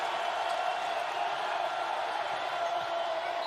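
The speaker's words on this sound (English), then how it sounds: "And now the crowd is really engaged." A basketball arena crowd during a UAB versus West Virginia game keeps up a loud, steady roar of cheering with no break.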